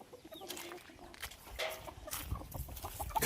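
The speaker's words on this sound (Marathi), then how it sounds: "हा कसं आपला गावठी कोंबडा" A country rooster clucks quietly on a village farm, making soft low clucks amid faint outdoor background noise, with no talking.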